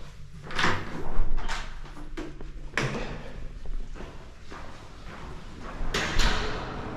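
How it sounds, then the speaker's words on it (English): An automatic sliding door in an airport business lounge opens with a soft mechanical whoosh and rumble, accompanied by a few footsteps and light room noise, with a brighter swish or bump near the start, around three seconds and again toward the end. "Automatic door."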